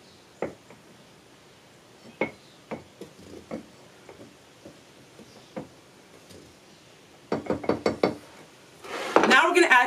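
Dry baking mix being stirred in a wide-mouth gallon jar, with scattered knocks and scrapes of a utensil against the container, faint and irregular, then a quick rattling flurry and talk at the end.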